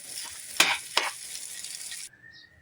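A spoon stirs potato filling in a pan for crispy potato tacos, giving a soft scraping, sizzly rustle. Two sharp utensil knocks cut through it before the sound stops abruptly.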